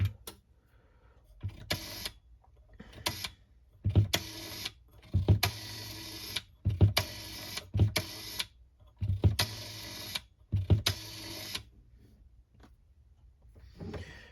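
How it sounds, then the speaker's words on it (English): Rotary dial on a 1951 Connecticut TP-6A US Army Signal Corps field telephone, heard close up as a series of separate bursts of mechanical clicking and whirring, each followed by a brief pause, with no talking. "So I'll give you a couple pulses here on the switch. Got 2. And I'll dial some numbers."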